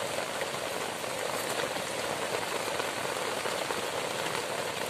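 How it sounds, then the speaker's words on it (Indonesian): Heavy rain pours onto a small campsite shelter built of grass and leaves, a loud, unbroken wash of dense drumming and hiss close by, with no voices. "Aduh, masih siang hari udah hujan ini."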